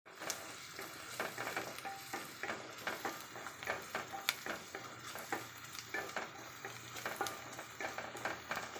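Ingredients for puttu uppumavu sizzle as they are sautéed in a pan, with soft steady frying crackle broken by repeated scraping taps of a spoon stirring, quiet and close.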